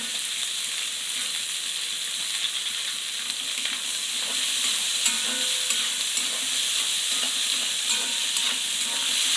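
Garlic, ginger and chopped potato fry in a pan with a steady, close sizzle and hiss, broken by soft stirring scrapes and small clicks throughout, with no voices.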